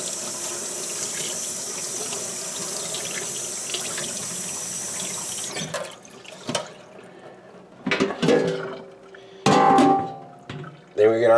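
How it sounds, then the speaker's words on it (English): A ham rinsed under a running tap in a kitchen sink, a steady loud rush of water for several seconds that cuts off, followed by scattered clunks and handling noises. "so I like to rinse it under some water."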